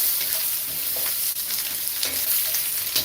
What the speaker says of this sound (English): I'm just going to be stir frying this with the seasoning